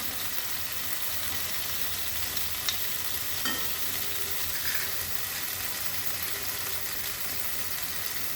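Steady sizzling and frying as turmeric goes into a spicy mustard-poppy fish curry of bata fish, with occasional soft scrapes and clicks of stirring; no talking.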